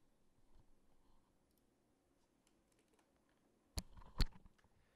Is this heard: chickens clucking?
no